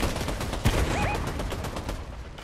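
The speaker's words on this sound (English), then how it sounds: "Just got sniped. Is there shooting behind us?" Rapid gunfire in a battle royale shooter game, including sniper shots: a loud burst of cracks with a brief whistling tone on top, then a dense, continuous rattle of shots fading slightly toward the end.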